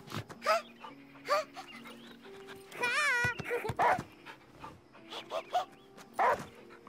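A dog in the Last Day of June video game gives several short, sharp barks and yips at irregular intervals, fairly close, with a brief whining cry in the middle over a soft musical background.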